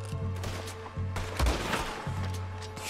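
Gunfire in the Red Dead Redemption 2 video game: several sharp, loud shots spaced about half a second to a second apart, over a low steady drone.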